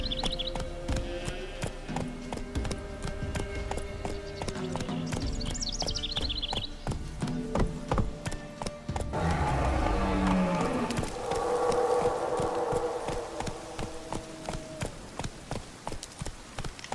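Roach, a horse in The Witcher 3: Wild Hunt, gallops with quick rhythmic hoof clip-clops over an ambient game soundscape that holds a faint musical score, and a brief snort or whinny comes partway through.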